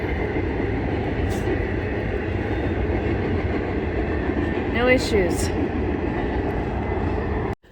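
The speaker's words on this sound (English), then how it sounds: "now that the train has gone by" A train rumbles steadily past nearby with continuous rolling rail noise, a brief squeal of wheels midway, and a short spoken remark.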